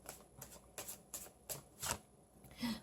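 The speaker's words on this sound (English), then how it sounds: "let's shuffle the cards" Tarot cards are shuffled in a steady series of soft riffling bursts, close and fairly quiet, repeating about every half second.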